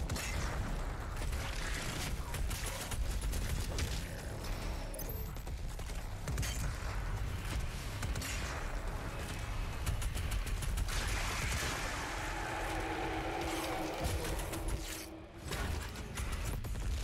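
Enemy gunfire in the video game DOOM Eternal on the Urdak level: dense, continuous rapid fire and mechanical clatter, loud and layered with booms, keeping up almost without break until a brief dip near the end.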